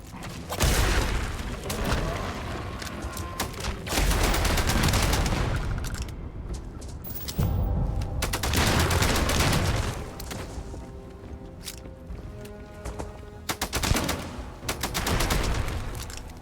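Repeated bursts of pistol gunfire from a war-machine video game, loud and close, firing in clusters between short pauses, with booming impacts and mechanical clatter and no talking.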